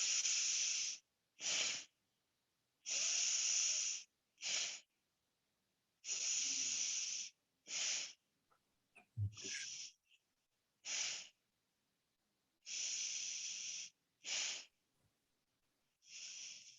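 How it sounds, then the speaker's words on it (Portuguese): Slow, deliberate breaths during a conscious breathing exercise, long airy inhales and exhales alternating with silent pauses, close and audible alone with no talk, the ribs, chest and belly opening on each breath. "continua respirando e vai se observando"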